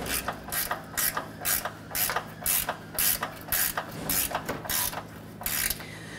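A hand ratchet tightens bolts on the bumper impact absorber of a 2008–2012 Honda Accord, with loud, close, rhythmic clicking bursts repeating steadily with short pauses between strokes.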